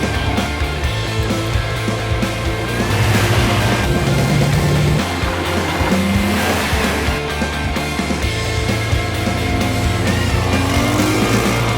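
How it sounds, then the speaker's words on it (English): Vintage rally cars set out at dawn from the port of Monaco, their engines revving and accelerating close by in a steady, loud stream of motor noise with shifting pitch as the cars pull away. "Barely 6 o'clock as the first cars set out from the port of Monaco."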